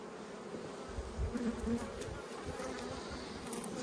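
Honeybees swarm around an Australian backyard beehive, their dense, steady buzz filling the air close by with small rises and falls as individual bees pass, and nobody speaks.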